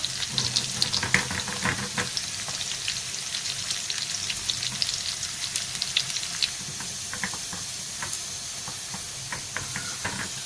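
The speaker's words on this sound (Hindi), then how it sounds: "अब इसमें हमने प्याज का ये भंगार देंगे" Fried golden-brown onion tempering poured into a pot of chana, giving a loud, continuous hissing sizzle full of crackling pops that stays strong throughout.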